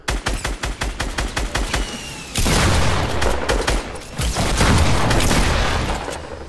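Loud, close gunfire in a shooter video game: a quick run of about a dozen evenly spaced rapid shots, then dense sustained automatic fire and blasts that roll on before tapering off.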